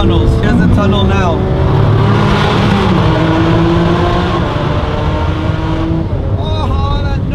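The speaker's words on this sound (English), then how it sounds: "This car sounds incredible." A Lamborghini Aventador S engine roars loud and close inside a motorway tunnel, with rising revs, gear changes and echoing reverberation filling the space, while someone talks over it.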